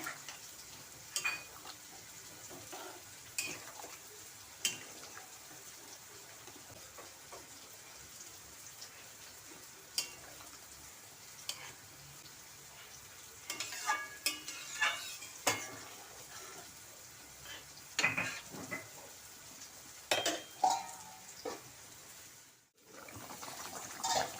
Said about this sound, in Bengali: বন্ধুরা, এখন পটল দিয়ে দিচ্ছি। নাড়াচাড়া করে দেব।